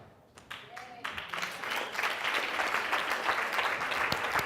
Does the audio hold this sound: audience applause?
yes